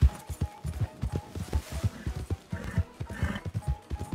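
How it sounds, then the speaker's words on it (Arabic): Horse in the open-world game Red Dead Redemption 2, with steady clip-clop hoofbeats at a near trot and a brief whinny, loud and clear throughout. "ايوه هذا هو الحصان."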